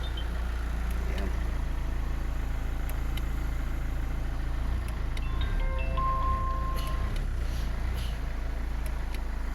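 Hyundai Accent CRDi diesel engine turning over and settling into a steady idle after a fuel pump repair, a continuous low rumble throughout with faint tonal whines and brief speech nearby.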